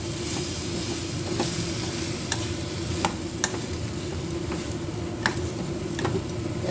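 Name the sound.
bitter gourd with masala and curry leaves sautéing in a pan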